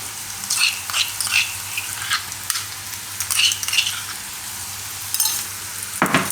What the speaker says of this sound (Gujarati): તો હવે એમાં આપણે નાખી દઉં આદું, મરચાં અને લસણ જે આપણે વાટેલું છે એ